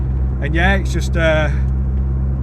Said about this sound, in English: I'm just cruising along now in 4th gear at 30 mile an hour